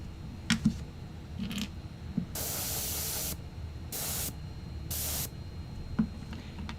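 Airbrush driven by a compressor spraying paint on Warhammer 40k miniatures: three sharp bursts of hissing spray, the middle one short, set against a low steady compressor hum with a few small clicks.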